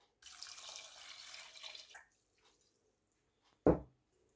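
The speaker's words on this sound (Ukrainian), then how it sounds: "Подрібнені гриби я склала в каструльку і тепер долила сюди води" Water from a tap runs into a pot of chopped mushrooms for a couple of seconds, then stops, followed by a single loud clunk of the pot near the end.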